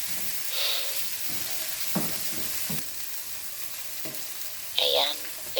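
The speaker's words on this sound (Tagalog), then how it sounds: "Maprito lang siya." Chicken with a little black pepper sautéing in a pan for chicken afritada gives a low background sizzle, with a few soft scrapes of stirring and a brief louder clatter near the end.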